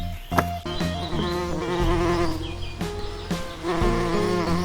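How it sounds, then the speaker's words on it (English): A honey bee buzzes in a dense, close, continuous drone with a wavering pitch, alone and steady for a few seconds. "Bee, honey bee, this is bee,"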